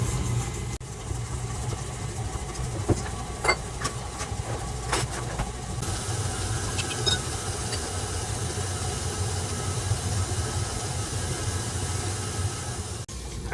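An electric mixer beats vegan vanilla pound cake batter until creamy. It makes a steady, unbroken whir at an even loudness with faint clicks on top.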